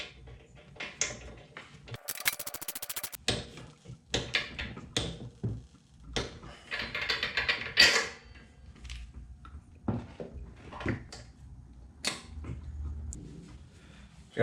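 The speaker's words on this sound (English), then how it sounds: "And then this gets torqued to 15 foot-pounds." Torque wrench clicking as a bolt is tightened to 15 foot-pounds during rebuild of a CT200-U minibike engine's connecting rod and cam, heard as scattered close ticks and clicks in a quiet workshop.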